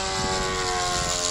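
Tucano propeller aircraft flying low aerobatics at a racing circuit, a loud, sustained droning engine and propeller buzz with steady tonal whine, close overhead and without speech.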